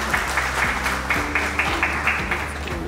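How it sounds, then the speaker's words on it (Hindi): Steady applause from a crowd at an awards ceremony, with rhythmic clapping that swells and pulses in waves. "तो एक बार अपने लिए भी आप सब जोरदार तालियां बजा दीजिए"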